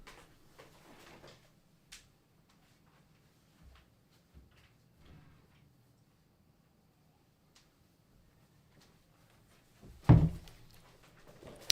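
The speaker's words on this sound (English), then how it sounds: "Let me open up my my door a little bit." A door being opened in a quiet room, with faint scattered knocks and rustles for several seconds, then one fairly loud close thump and rattle near the end, with no speech.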